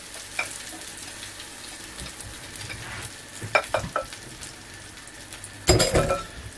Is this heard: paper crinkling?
no